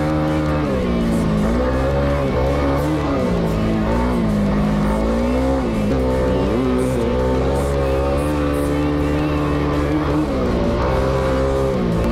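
A Honda CRF300L dirt bike rides off-road at a park, its engine droning steadily and loud throughout, pitch rising and falling with throttle changes and no pauses.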